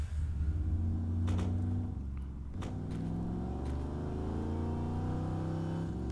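A car drives in the video game Saints Row The Third, its engine humming and revving with rising and falling pitch and a couple of brief knocks, heard fairly quietly.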